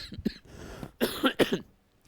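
A person who is unwell coughs several times close by, a couple of short coughs followed by two harsher, louder bursts, then quiet.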